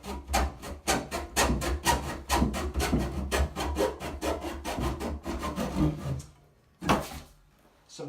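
A hand saw cuts through ABS plastic drain pipe for a sink P-trap in rapid rasping strokes, close and loud, slowing near the end before a brief pause and a final stroke or two.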